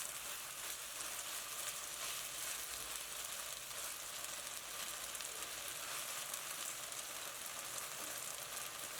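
Beef browns in a hot pan for beef and broccoli, a steady, even sizzle that holds at a constant level throughout with no voices.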